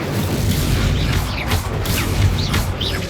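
Fiery bursts and booms of the Incendio spell in Hogwarts Legacy roar out in a dense, continuous wash of blasts and whooshes, with battle clatter mixed in and no talking.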